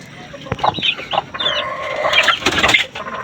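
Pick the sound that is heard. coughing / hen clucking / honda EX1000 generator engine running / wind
hen clucking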